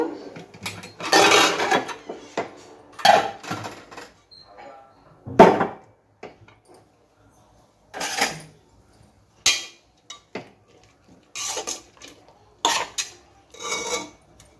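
The metal lid comes off a pressure cooker of bottle gourd curry with gongura, producing several sharp clanks and scraping metal rattles separated by quiet pauses.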